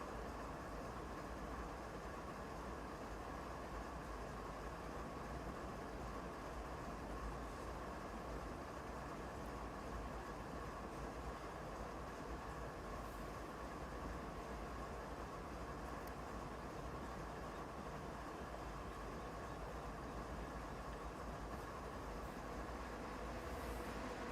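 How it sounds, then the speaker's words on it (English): A heavy freight train rolls along a Canadian mountain pass route in Train Simulator 2021, a steady, loud, continuous rumble with rail noise running unbroken throughout, with no voices. "This train is just a little bit heavy now."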